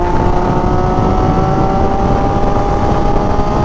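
MV Agusta Superveloce motorcycle fitted with an untuned SC Project exhaust, riding along with a loud, steady engine drone and rumble, mixed with wind noise and holding an even pace throughout.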